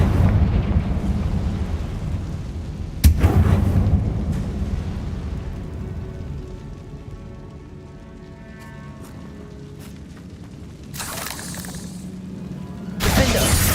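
Confringo fire spells blast in Hogwarts Legacy: a sharp crack-like explosion near three seconds, then a second burst around eleven seconds, above a steady rumbling game background.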